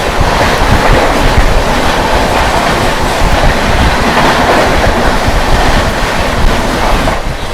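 CSMT Nagpur Sevagram Superfast Express coming toward the listener: a loud, continuous roaring rumble with rushing wind noise and rhythmic wheel clatter that holds throughout.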